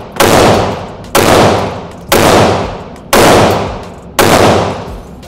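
Five loud gunshots fired one at a time at roughly one-second intervals, each a sharp close blast with a long decaying echo, and no talking between them.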